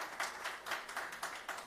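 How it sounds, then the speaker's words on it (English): Faint, scattered clapping from a small audience at a health AI research panel event, sounding distant and thin with soft rhythmic claps. "Can I have a round of applause for the panel?"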